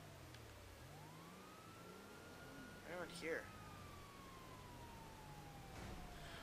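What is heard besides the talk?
police and fire truck sirens in GTA V video game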